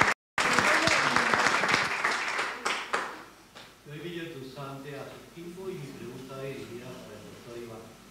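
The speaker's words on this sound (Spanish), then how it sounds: "Un aplauso para Bolivia." Audience at a climate justice conference panel applauding in solidarity with Bolivia, a burst of dense clapping that fades after about three seconds, followed by someone speaking.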